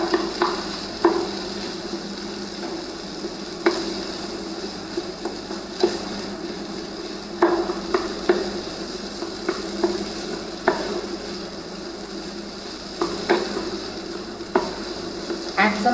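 A spoon stirs a spiced potato mixture frying in a pan at a home kitchen, steady sizzling underneath with repeated scraping and knocking strokes against the pan, close and moderately loud.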